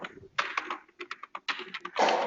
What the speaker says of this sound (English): I'm just typing some random information.